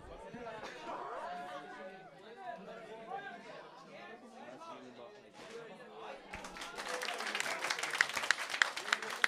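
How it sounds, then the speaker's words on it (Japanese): An audience at a beatbox battle in Hokkaido claps and chatters steadily, the applause swelling louder toward the end with sharp individual claps standing out; a voice speaks over the start. "勝者対するロキシーにも大きな拍手を。"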